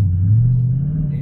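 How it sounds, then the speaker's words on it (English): Inside the cabin of a supercharged 2021 Mustang Shelby GT Premium with an Edelbrock 700 hp supercharger, a deep, steady engine rumble drones low and loud throughout the short moment, with no talking. "Very deep sound sa cabin na nagseseparate sa isang Mustang GT."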